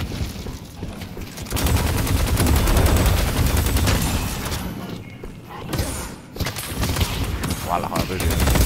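Dense, continuous cannon and rapid gunfire in a video game, loud and sustained with heavy booming bursts, briefly easing midway before resuming, with a voice talking over it.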